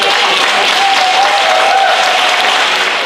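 Loud, dense applause from a crowd at a folk costume and dance day, welcoming the band, a steady wash of many hands clapping at once without a break.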